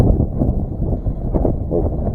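Strong gusty wind of about 20 mph buffets a microphone while bluegill fishing, a steady low rumble that swells and dips through the whole stretch, close and loud with no speech.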